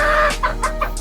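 Chickens and stags clucking at a gamefowl farm, several short rapid clucks in quick succession, close and loud.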